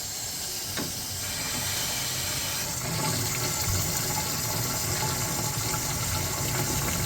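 Water runs steadily into something filling up, a continuous broad hiss that swells slightly after a few seconds and carries on evenly, with no talking.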